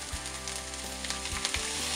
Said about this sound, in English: we have our onions, which you can hear sizzling